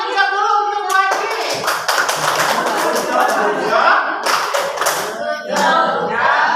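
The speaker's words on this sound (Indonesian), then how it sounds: "tepuk tangan dulu untuk Bu Haji" Schoolchildren in a classroom clap together for their teacher, a dense, close burst of hand claps with a voice heard briefly at the start.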